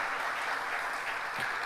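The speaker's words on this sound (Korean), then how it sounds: "다시 한번 아버지 앞에 감사 영광 박수 올립니다." Congregation applause at a Friday all-night worship service in a church, a steady dense wash of clapping hands filling the room throughout, fairly faint and continuous with no break.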